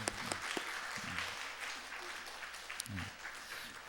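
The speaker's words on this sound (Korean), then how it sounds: "우리 다음 세대 우리 격려의 박수 한번 줬으면 좋겠습니다" A church congregation gives a round of encouraging applause for the younger generation, a soft, steady clatter of clapping heard under a voice that speaks intermittently throughout.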